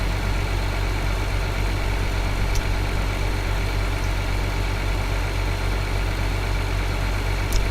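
A farm vehicle's engine drones steadily in Farming Simulator 2013 on the Kernstadt map, a constant low idling hum with a faint vibration that holds evenly throughout, broken only by a few tiny clicks.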